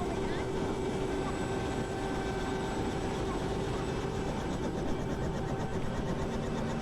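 A rescue helicopter in the mountains drones steadily and loudly throughout, a continuous rotor and engine roar with a few sustained tonal hums layered on top.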